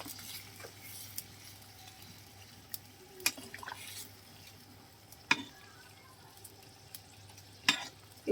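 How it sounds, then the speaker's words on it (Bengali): Fried fish, cauliflower and potato are stirred in a pan. There is a faint, steady sizzle and a few sharp scrapes and clinks of the utensil against the pan, spaced irregularly. No one speaks. "এদিকে ফুলকপি আলু মাছ ভাজা দিয়ে সেরে ভালো করে মিশিয়ে নিচ্ছি।"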